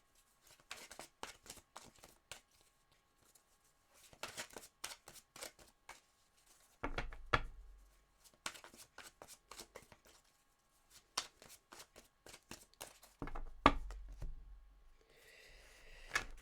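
Tarot cards being shuffled by hand for a reading, a series of quick riffling, flicking bursts in several separate bouts with short pauses between, close and fairly quiet.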